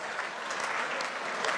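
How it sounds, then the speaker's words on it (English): An audience at the 2016 Nestlé CSV Forum claps together in a short, dense burst of applause that runs steadily from start to finish, with no voices. "If you can hear me, clap twice."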